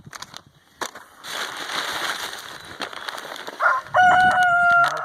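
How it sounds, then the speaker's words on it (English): A barred rock rooster crows loudly and close by, one long drawn-out call rising out of steady outdoor noise that sounds like rain, with a few clucks before it. "that's my barred rock rooster"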